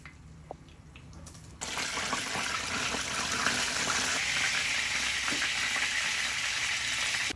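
After a quiet start, loud steady sizzling erupts as Chinese beef crispy roti dough, made without egg, is dropped into hot oil, a continuous close crackling hiss that holds to the end.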